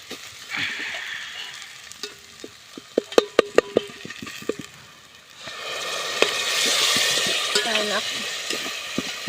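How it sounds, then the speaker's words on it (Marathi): Grated coconut is roasted in a pan while being stirred, with sharp spatula taps and scrapes against the metal and a soft crackle that swells into a broader sizzle partway through. "टाकले खोबरं चांगलं भाजून घेते"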